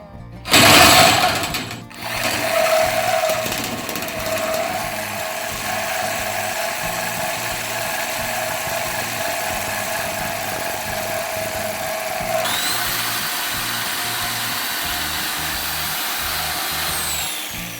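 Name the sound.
power tool cutting pieces for chainsaw cylinder kit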